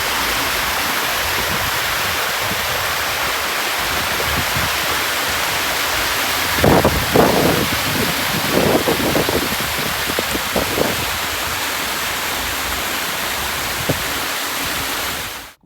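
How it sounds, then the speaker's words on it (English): River water rushing into the sea on the Jamaican coast, heard as a steady broadband wash of flowing water with a cluster of louder splashing surges through the middle, no voices. "When you're watching river water going right into salt water."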